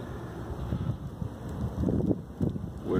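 Blizzard wind gusts outside on a cold day of about 23 degrees with snow piling up, buffeting the microphone in uneven rushing surges that swell louder toward the end.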